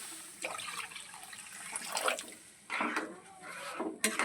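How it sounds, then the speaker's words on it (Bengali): Water is poured into semolina in a pan in a few uneven splashing bursts, each separated by brief pauses, close and moderately quiet, with no voices. "যে বাটি মাপ করে আমি সুজি নিয়েছি ওই বাটি মাপ করে জল দিয়ে দেব"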